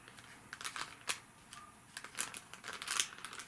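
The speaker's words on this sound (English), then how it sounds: "Sorry for all the crinkles." Crinkly plastic packaging of knitting needle point protectors being handled, giving a close series of sharp, irregular crackles and rustles in short bursts, fairly quiet, with no talking.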